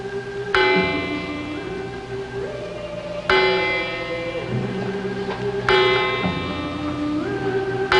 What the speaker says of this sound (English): It's been chiming like that for 15 years.